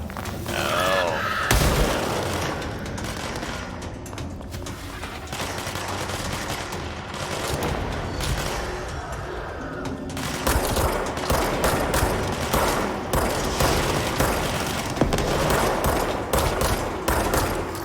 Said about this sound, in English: Their explosions don't seem to hurt each other very much.